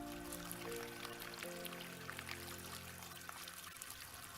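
Tap water pours steadily into a home, a soft continuous splashing stream with faint trickling, heard alone at low level.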